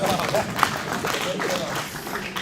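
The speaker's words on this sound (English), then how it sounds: "can we clap hands?" Audience at a Pan African socialism dialogue opening ceremony clapping hands, a dense, even spread of claps running steadily under and around talk, moderately loud throughout.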